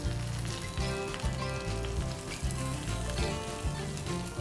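Chicken pieces, already flipped to cook the second side, sizzle steadily in a pan, a continuous crackling hiss partly masked by loud rhythmic background music.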